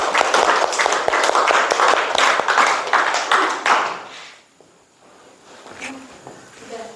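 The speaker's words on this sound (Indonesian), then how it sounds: "Kasih aplaus ya" An audience claps together in a room after a group presentation, a dense burst of applause lasting about four seconds before it fades to scattered claps and quiet murmuring.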